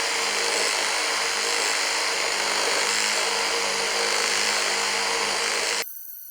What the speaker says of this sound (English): Let's see how many cuts the reciprocating saw can make with the wood blade in this endurance test